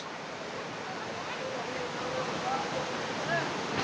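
Shoilo Propat waterfall in Bandarban running full in the rainy season, a steady broad rush of falling water that builds slightly toward the end, with faint voices in the background.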